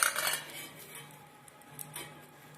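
A metal idli maker clinks and rattles briefly, a few light metallic taps and scrapes up close and fairly quiet, with no speech.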